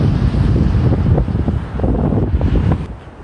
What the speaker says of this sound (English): I don't know what they're catching, but this is the ocean.